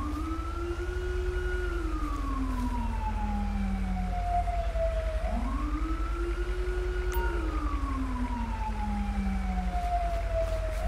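A wailing ambulance siren from the game GTA with the LSPDFR police mod, rising and falling in long sweeping cycles, loud and steady over a constant engine rumble, with no talk.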